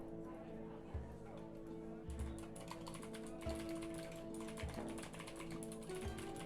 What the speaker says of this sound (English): your keyboard is excruciatingly loud and I cannot hear myself over it